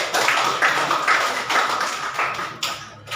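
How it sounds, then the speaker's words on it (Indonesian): A classroom of students claps hands together in applause, a steady run of brisk, fairly close claps with rhythmic peaks, no talking over it. "Oke, tepuk tangan dulu kita semua dulu."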